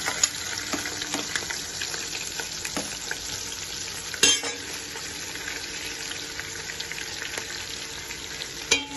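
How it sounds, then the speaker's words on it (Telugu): Onions and green chillies frying in a pan for kichidi rice give a continuous crackling sizzle, with occasional spoon scrapes and one sharper clank midway, close and fairly loud throughout. "ఇవి కూడా కొద్దిగా ఫ్రై అవ్వాలి"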